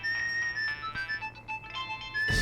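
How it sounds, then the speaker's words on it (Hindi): A mobile phone rings with an incoming call, a looping electronic ringtone melody repeating steadily and fairly loud, with no talking over it. "सर आपका फोन है सर?"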